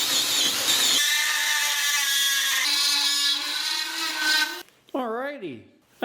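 A power drill boring holes into wood for a handmade wooden knife, a steady loud whine for several seconds, followed by a short pause and a few brief revving bursts near the end.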